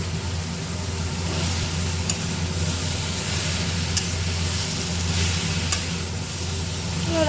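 Fried jackfruit and potato pieces cook in a pan of spiced masala with a steady, even sizzle over a low background hum and a few faint clicks, with no talking.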